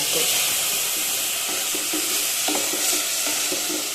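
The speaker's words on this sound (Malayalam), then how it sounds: "അപ്പൊ ഇതും നെയ്യിൽ കിടന്നിട്ട് നന്നായിട്ടൊന്ന് മൂത്ത് വന്നിട്ടുണ്ട്" Food sizzles and fries in hot ghee in a pan, a continuous close hiss with occasional soft scraping stirs and clinks under it.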